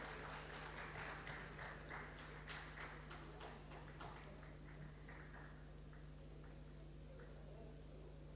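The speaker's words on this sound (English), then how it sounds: "we can appreciate a good round of applause for the orator" Audience applause for a speaker at the end of an oration at a medical conference, a broad wash of clapping that is steady at first and thins out over several seconds, with a constant low hum underneath.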